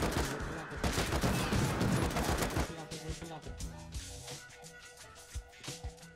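AK rifle fire in the survival game Rust, a dense burst of rapid shots at first, then scattered separate cracks and thuds mixed with other game noise.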